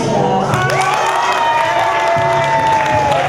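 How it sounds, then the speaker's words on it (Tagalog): An audience applauds and cheers loudly, with busy clapping mixed with shrill shouting and whooping voices rising and falling over the continuous crowd noise. "Ang mechanics po ng pag-judge, pinakamalakas po ng palakpak."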